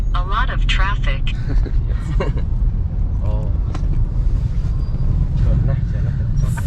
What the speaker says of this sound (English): there is some traffic here